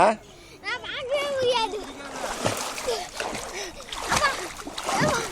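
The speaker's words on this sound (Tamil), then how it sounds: "ஃபோன் மேலே தண்ணி அடிக்கிறான் பையன்" Water splashing and sloshing nearby in a temple pool while children shout and talk over it.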